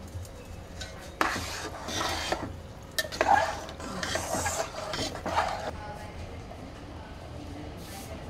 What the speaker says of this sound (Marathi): आता हे छान उकळलंय